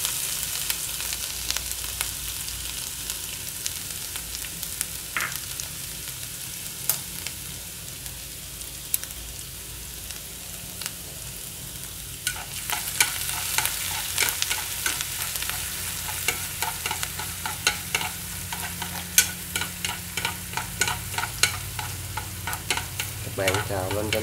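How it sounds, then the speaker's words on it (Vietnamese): Minced lemongrass and chili stir-fried in hot oil give a steady, dense sizzle that crackles on without a break, with louder spitting bursts toward the end and no voices. "Bạn xào lên cho nó có mùi thơm"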